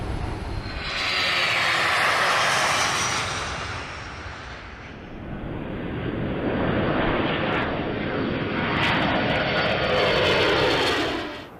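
KC-135 jet aircraft engines in flight, a continuous heavy roar that swells and eases in slow waves, loud and enveloping, with possible faint talk beneath.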